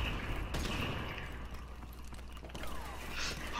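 Shotgun blasts in a multiplayer shooter video game: a couple of sharp booming shots amid a low, noisy game soundscape, fairly quiet overall.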